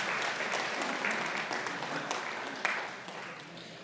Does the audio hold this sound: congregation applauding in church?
yes